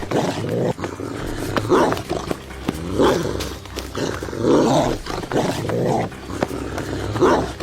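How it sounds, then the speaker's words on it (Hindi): A dog growls and barks repeatedly while chasing someone, rough bursts coming in a rhythmic series of loud, close snarls over several seconds. "अरे ये कुत्ता तो फिर से मेरे पीछे पड़ गया।"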